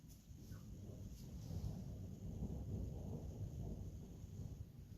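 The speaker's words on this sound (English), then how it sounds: "That was a thunder." Distant thunder during a storm, a low, sustained rumble rolling for several seconds, faint and muffled with a slight wind-like hiss over it.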